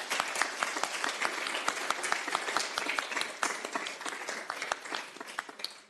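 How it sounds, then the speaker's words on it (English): Applause at a village board meeting for the junior deputy clerks: a dense spread of hand claps from a modest audience, steady and moderately loud before tapering off at the end. "please, a round of applause for each of our junior deputy clerks this evening"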